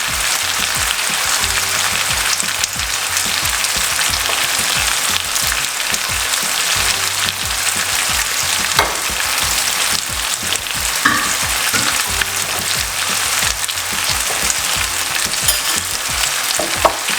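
Mackerel fry in a hot pan with a loud, steady, dense sizzle that continues unbroken throughout, with occasional faint pops and no voices.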